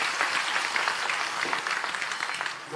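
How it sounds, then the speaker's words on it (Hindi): Applause from a crowd at an outdoor political rally on a sports ground, a steady dense wash of clapping lasting throughout, fairly loud and even. "एक बार जोरदार ताली बजाइए आदरणीय प्रसाद जी।"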